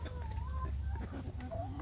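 Free-range village chickens cluck softly in short, scattered calls over a low background hum, fairly faint and unaccompanied by talk.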